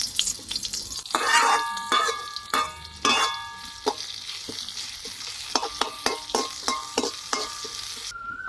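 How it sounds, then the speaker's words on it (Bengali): Chopped onion and cumin paste frying in oil for a koi fish curry, a soft sizzle broken by repeated spatula scrapes and knocks against the pan, steady rhythmic stirring close by. "একটু পেঁয়াজ দিব আর একটু জিরে বাটা দিব। এটা এখন ভাজি করতেছি।"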